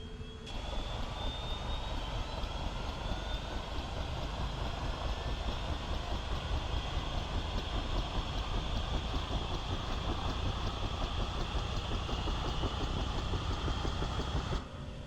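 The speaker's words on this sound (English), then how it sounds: "let's go ahead and start engine 2" Engine 2 of a Bell 222B helicopter in a flight simulator spooling up, a constant loud turbine roar and whine holding steady from start to finish.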